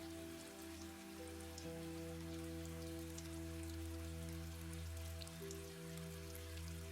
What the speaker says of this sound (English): The raindrops patter softly against the bedroom window.